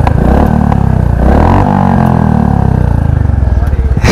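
A 350cc Royal Enfield Bullet motorcycle with a changed silencer revs loudly and close, its deep thumping exhaust rising and falling, with a voice speaking over it.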